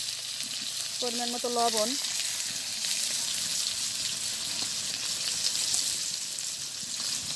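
Oil sizzles in a pan in a village kitchen, a continuous broad frying hiss that holds steady throughout, with a short spoken phrase early on.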